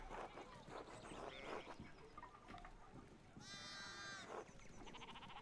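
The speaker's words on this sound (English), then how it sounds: "we need to get these sheep under control" Sheep in the medieval-style video game Pentiment bleat in a couple of short, wavering calls over a quiet background, with soft game sounds and voices around them.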